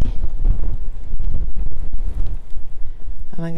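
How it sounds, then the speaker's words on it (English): Heavy wind buffets the microphone with a continuous, loud rumbling roar, broken by a few brief dropouts. "And the wind is blowing, but all is good."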